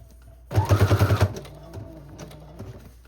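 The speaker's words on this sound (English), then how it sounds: "So I'll just sew around the three edges as if it were a top loading pocket." A sewing machine stitches through a paper journal folio pocket made from printer paper, giving a short, loud run of seven or so rapid, even needle thumps, then quiet handling noises and a voice.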